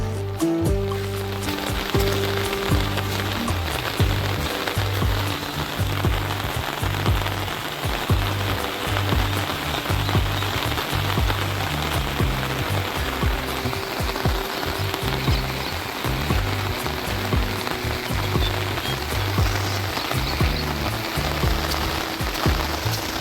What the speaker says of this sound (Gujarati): હજી ચાલુ જ છે વરસાદ